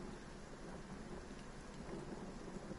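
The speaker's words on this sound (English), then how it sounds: "if I could blast the sound of this rain, it's so beautiful." Heavy rain falls steadily in a dense, even hiss, with a thunderstorm rumbling far off beneath it; the wash stays constant and fairly quiet throughout.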